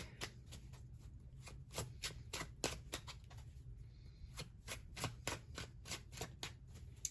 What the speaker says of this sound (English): Let's go ahead and shuffle up this tarot deck really quick.